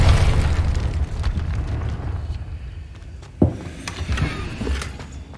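Confringo blasting spell in a video game: a deep rumbling explosion that opens loud and slowly fades, followed by a sharper burst and softer crackling rumbles.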